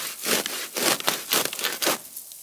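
Pruning shears or a small saw cutting through black bamboo stems and roots while the plant is divided, giving a run of close, rhythmic rasping strokes with brief pauses between them.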